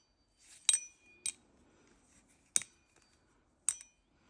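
A Poikilo Nova knife snapping through its action, giving four sharp metallic clicks, each followed by a brief high tuning-fork-like ring. The clicks are close and distinct, with quiet gaps between them.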